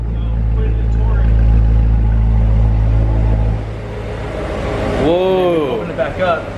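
A 2019 Corvette Z06 with a cold air intake sits at a loud, steady exhaust rumble that drops much quieter as the exhaust valves close, then a rising and falling rev swell follows, with a voice speaking over it.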